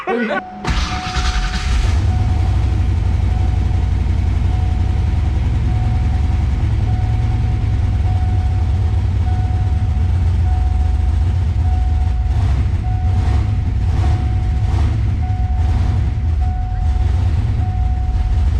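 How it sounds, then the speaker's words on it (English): A Ford Foxbody car's engine runs steadily at idle with a loud, constant drone and a leak at the V-band clamp going to the downpipe, adding a faint repeated ticking later on. "we obviously have a leak up here on the V-band going to the downpipe"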